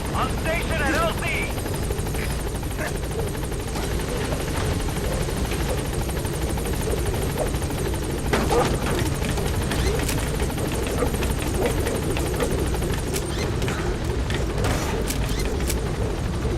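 Pequod helicopter from Metal Gear Solid V arriving at a landing zone: a steady, loud rotor drone with low mechanical thrum runs continuously, with speech over it.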